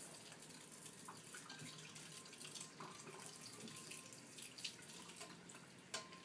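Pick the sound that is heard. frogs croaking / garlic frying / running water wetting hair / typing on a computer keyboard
running water wetting hair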